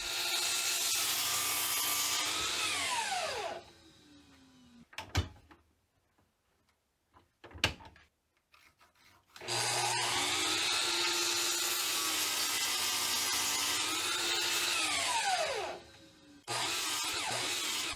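A power saw makes two long whining cuts through workbench legs at a taper angle. It winds down between cuts, with quiet clicks and clunks of repositioning in the pause. The sound is close and steady, with no talking.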